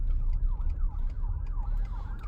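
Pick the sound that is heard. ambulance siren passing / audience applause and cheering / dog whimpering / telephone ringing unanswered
ambulance siren passing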